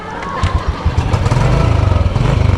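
An old motorcycle engine starts with a few sputtering coughs, then settles into a loud, rapid, steady idle close by.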